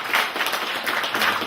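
Audience at a lecture clapping, a short patch of soft, diffuse applause from many hands, steady and moderately loud with no speech over it.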